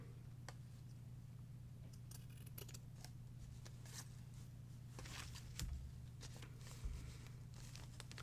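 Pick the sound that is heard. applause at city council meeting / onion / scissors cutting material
scissors cutting material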